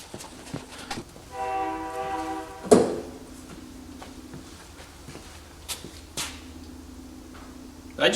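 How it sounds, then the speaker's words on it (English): A distant train whistle sounds once as a brief, tonal blast of about a second, followed by a sharp knock and scattered quieter clunks in an otherwise quiet outdoor setting. "Did I just hear a train whistle?"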